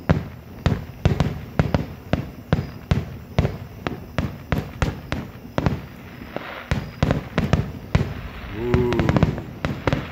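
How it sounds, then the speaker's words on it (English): Labor Day fireworks finale in Speedway, Indiana: a rapid, near-continuous barrage of loud booming bursts and crackles, with a brief vocal exclamation near the end. "Glad you guys could join me here in Speedway for a nice little free fireworks show."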